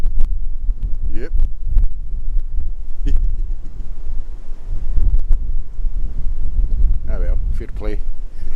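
Strong wind blows outdoors near a bird feeder, buffeting the microphone with low, gusty rumbles while someone speaks briefly in between.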